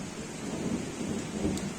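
Steady heavy rain with hail pours down with a low rumble of thunder rolling underneath, loud and continuous with no voices.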